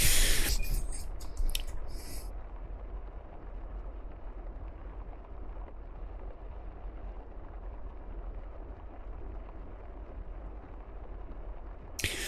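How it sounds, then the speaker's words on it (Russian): Heavy tropical rain in the DCS World flight simulator around a Su-25SM3 attack jet: a loud, steady, dense hiss with a low rumble, continuous for over ten seconds after a brief louder start. "Ливень сильный."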